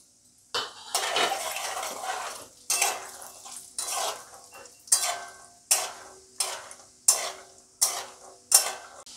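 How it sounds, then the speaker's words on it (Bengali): Peanuts being fried and stirred in a pan for a Bengali flattened-rice snack: a soft sizzle beneath repeated sharp scrapes and clinks of a metal spoon against the pan, coming in regular bursts about once a second, close and clear. "আমি এই বাদামগুলো এবার ভাজবো। দিয়ে দিলাম বাদামগুলো।"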